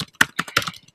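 Rapid typing on a computer keyboard while writing in Google Docs, with a quick irregular run of close, crisp key clicks, some strokes sharper and louder than others.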